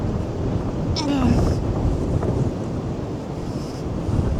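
Strong wind blasting a microphone on a gusty town shopping street, a loud continuous low roar with brief faint background sounds and a hint of a distant voice.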